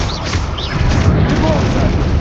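A Confringo explosive spell fired in Hogwarts Legacy, giving a loud, rumbling boom that fills the whole moment and layers with dense game combat noise.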